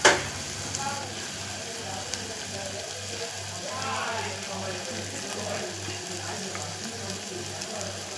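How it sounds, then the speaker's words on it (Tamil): A soft continuous bubbling and sizzle of rasam simmering in a pot, steady and close, with a faint low hum beneath. "இது கொதிக்க வைக்கிறது."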